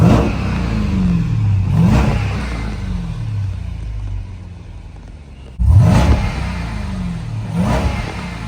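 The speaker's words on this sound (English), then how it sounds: "I'm about to rev it in a little bit." A 2021 Jeep Grand Cherokee Trackhawk engine revs up twice, rising from a low rumbling idle into a loud roaring surge around the middle and again near the end, with no talking.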